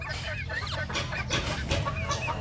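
Roosters clucking and calling among a flock of poultry, several overlapping bird voices close by with steady farmyard background noise and no talk.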